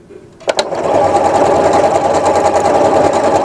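A sewing machine stitching a little-star decorative pattern starts with a couple of clicks, then runs in a steady, loud, close whir that continues to the end.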